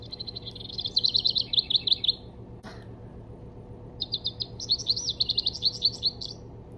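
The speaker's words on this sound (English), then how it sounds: "you can find the bird on the side here and listen to the sound it makes." A recorded bird call plays from a children's nature sound book: bright, rapid chirping trills in two bursts separated by a short click and pause, clear and close with no talk.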